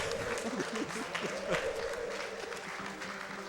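Audience applause at the AGDQ 2018 Games Done Quick marathon during a Superman 64 run, a steady wash of clapping from a crowd, moderately distant, with voices talking over it.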